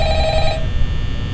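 A telephone rings in the Five Nights at Freddy's horror video game, a steady electronic trill held for about half a second before dropping away, loud and close against a dense low background rumble.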